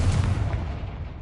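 A Confringo fire spell explodes in Hogwarts Legacy with a loud, deep boom that rumbles and fades away over about a second. No other sound accompanies it.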